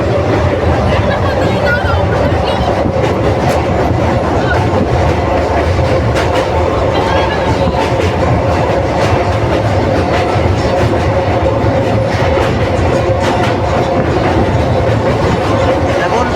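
A Teesta Torsa Express train runs on rails near Bandel Junction and over the Hugli River, giving loud, steady rumble and clickety-clack throughout, with faint voices murmuring underneath.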